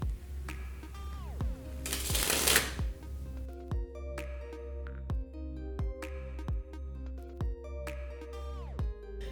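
Playing cards falling one after another in a cardistry dribble, a close series of soft papery clicks and riffles, with a dense burst near the start and then evenly spaced light flicks over a steady low hum.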